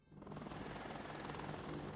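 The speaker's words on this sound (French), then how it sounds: "Eh ben, ça en fait des hélicos." Helicopters in the real-time strategy game WARNO give a steady, rhythmic rotor chop that swells in over the first fraction of a second and then holds, continuous and fairly quiet.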